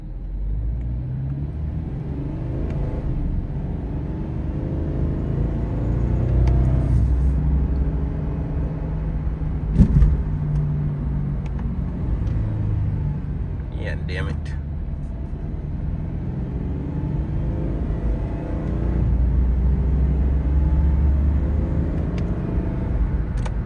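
A car engine with a rusted muffler gives a steady low rumble from inside the vehicle, swelling slightly at times, with a brief knock around the middle and people talking over it.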